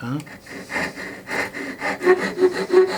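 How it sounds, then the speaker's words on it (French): A hand saw rasps through wood cutting dovetails for a tissue box in repeated back-and-forth strokes, fairly close, with faint breathing between strokes. "il faut que je coupe en laissant le trait"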